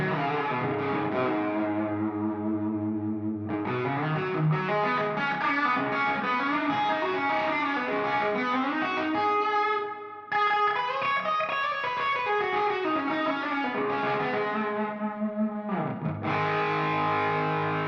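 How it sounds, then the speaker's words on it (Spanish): An electric guitar track is reamped through a tube amplifier with reverb and delay in the effects loop. Distorted chords and sustained notes play continuously, with heavy echo and lush ambient tails, and there is no talking. "el mismo track de viola, pero con una reverb y un delay en el loop activo"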